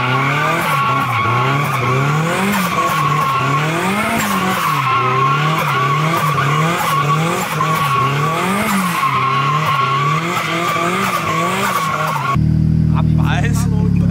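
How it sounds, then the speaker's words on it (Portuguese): A car drifts with its tires skidding and squealing continuously, a sustained wavering screech over steady engine roar, loud and close, with a brief change in the sound near the end. "Reginaldo Garcia, sem flexibilidade no drift"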